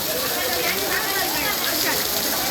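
Heavy downpour in Wankaner pours steadily and loudly, a dense unbroken hiss of rain close by with no pauses.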